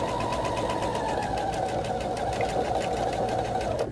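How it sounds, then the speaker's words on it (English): A sewing machine stitching through a quilt, its needle hammering in a fast, even mechanical rhythm with a motor whine underneath, close and steady throughout with no talk. "The machine's taking it beautifully. You can see that. No problem. Sewing away, sewing away"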